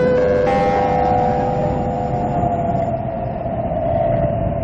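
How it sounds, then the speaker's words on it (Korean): Seoul Metro Line 1's last train to Seoul Station rolls into Jegi-dong station with a loud, sustained rumble and screeching tonal whine from wheels and brakes, up close on the platform. "지금 들어오는 열차는 오늘의 마지막 열차입니다"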